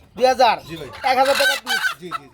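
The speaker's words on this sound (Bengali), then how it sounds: "দেখেন বন্ধুরা দুইটা মুরগ আছে" Two roosters crowing and clucking loudly and close by at a poultry market, a few harsh, honking calls in quick succession.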